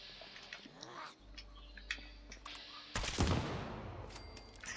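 A bloodied double explosive crossbow shot fired in the video game Fallout 76, a sudden loud blast and crackle near the three-second mark that decays into rumbling, over quieter ambient game sounds.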